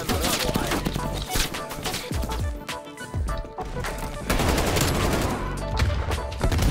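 Rapid automatic gunfire and sharp impact cracks in the video game Call of Duty: Black Ops Cold War, loud and dense bursts with brief lulls, a voice speaking over the action.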